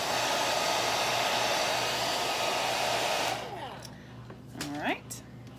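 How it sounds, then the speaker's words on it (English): A blow dryer running on its low setting to dry ink on glossy photo paper gives a steady, loud whoosh for about three seconds, then switches off, leaving a quiet room with a brief voice. "I'm just going to use the blow dryer on low."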